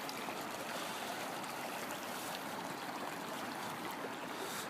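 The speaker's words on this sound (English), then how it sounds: "looking at the nice snow-fed creek" A snow-fed creek in a wooded winter hollow flows steadily, a constant soft wash of running water heard from nearby with no other sounds.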